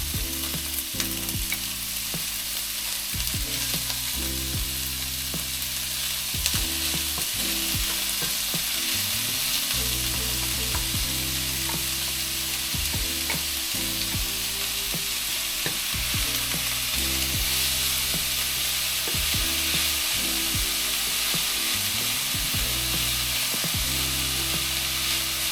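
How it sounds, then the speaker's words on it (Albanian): Chopped onion frying in hot oil in a pan, a continuous loud sizzle with frequent stirring and scraping under it, and no voices. "Filloj me valjen dhe me skuqjen e qepës"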